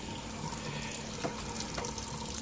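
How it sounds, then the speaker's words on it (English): Running tap water pours steadily over black drum fish fillets as they are rinsed in a sink, a continuous close splashing stream with no pauses. "And as you can see, I'm washing out both of these fillets."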